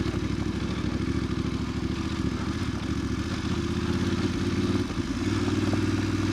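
A Voge 900DSX adventure motorcycle rolling downhill, its engine a steady close drone with a mechanical clatter, holding evenly throughout with a brief dip near the end.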